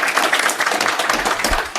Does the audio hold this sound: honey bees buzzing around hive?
no